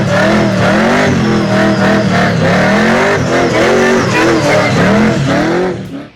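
A supercharged Holden HJ V8 revs hard and close, its pitch rising and falling in repeated surges for about six seconds before cutting off.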